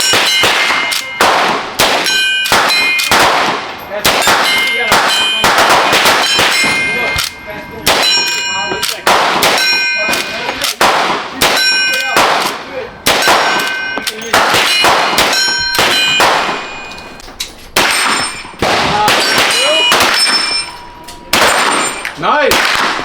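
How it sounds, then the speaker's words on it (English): Repeated rifle shots from a Marlin 1894 at an outdoor range, each followed by the sharp metallic ring of a steel target, at an irregular pace over about twenty seconds with brief voices between. "So that was me shooting the Marlin 1894"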